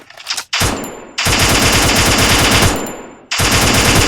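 Automatic gunfire from the mobile battle-royale game Garena Free Fire, loud bursts of rapid shots with two short breaks between them and no talking.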